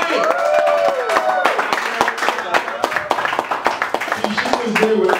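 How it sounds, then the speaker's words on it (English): Audience applause at an academy empowerment event, sharp claps and crowd noise mixed with cheering voices and some talk throughout. "Everyone give a round of applause for Alice B. Wright"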